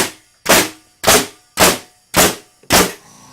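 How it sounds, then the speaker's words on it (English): A framing nail gun powered by an oil-less air compressor fires six sharp, loud shots at an even pace about half a second apart, each a close, punchy crack, with a low mechanical hum starting after the last shot. "every 6 shots or so, the compressor will kick on with the big framing gun"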